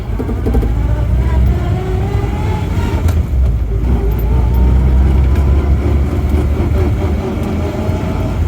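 A rusty MG Midget with no synchromesh drones steadily from inside the car on a short drive, a loud continuous low engine and road rumble with slight rises and dips, no voices.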